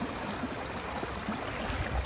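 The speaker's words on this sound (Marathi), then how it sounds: "तर इथून अशी नदी जातीये आणि इकडून तिचा फ्लो आहे." A river flowing, a soft, steady rush of water running evenly throughout with slight gurgles, fairly quiet and with no voices.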